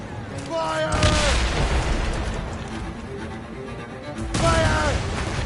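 Two loud volleys of musket gunfire in Assassin's Creed Rogue, one near the start and one near the end, each a sharp crackling burst followed by rumble, with officers shouting over the battle.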